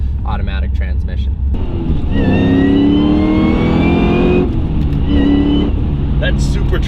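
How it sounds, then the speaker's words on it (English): Supercharged 1000 hp Cadillac CTS-V with a Cook's exhaust, revving up hard so a rising high supercharger whine rides over a deep exhaust roar, easing and surging again, loud and close, with talk over it. "That supercharger whine is awesome."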